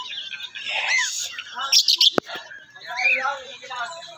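Several birds chirp and call outdoors near the start of a morning walk, bright tweets and squawks coming in bursts close by, with someone talking over them.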